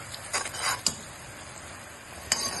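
Vermicelli simmering in sugar syrup is stirred in a pan, making a few quiet clinks and scrapes against the metal over a soft background hiss, with no talking.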